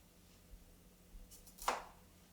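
A knife slicing vegetables in half on a cutting board, a few soft taps ending in one sharper, louder chop near the close, quiet and close-up.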